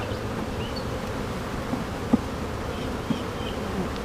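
Honeybee colony droning steadily inside an open hive, a dense continuous buzz close by with a few individual bees flying past, no voices.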